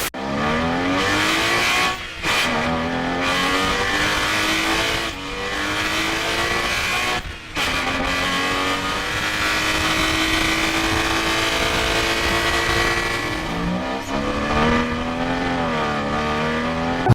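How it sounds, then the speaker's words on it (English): An old, cheap car's engine revs hard and continuously with loud intake noise, rising and falling pitch and brief dips between gear changes; loud and close, no talking. "your intake noises are very famous as well"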